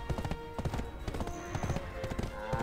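Horse hooves clip-clopping in the online game Black Desert Online, a quick irregular run of hollow knocks at moderate level, with faint game sounds around them.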